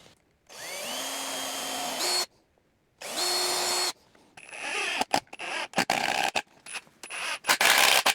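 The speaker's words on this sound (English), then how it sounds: "pre-drill and screw" Power drill bores pilot holes for screws in wood on a garden soil sifter build, two sustained whirring runs each about one to two seconds, followed by a stretch of stuttering, bursty drilling and ratcheting clicks, close and fairly loud.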